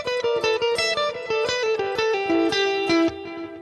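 Short pentatonic blues phrase on electric guitar: about a dozen quick, bright picked and pull-off notes in a steady, lilting rhythm, played close and loud with no voice over it.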